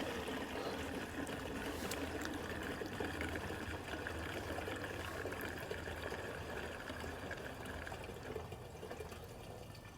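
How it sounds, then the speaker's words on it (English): Gasoline is poured into the fuel tank of a 2003 Honda TRX 90 ATV in a steady, faint trickling stream that runs without a break for about ten seconds. "Throw some gas in it to see if it leaks."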